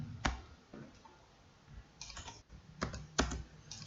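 Keys tapped on a computer keyboard, a few sparse clicks and a firmer Enter press heard close by in a quiet room, with irregular spacing between strokes.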